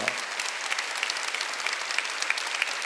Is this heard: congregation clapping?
yes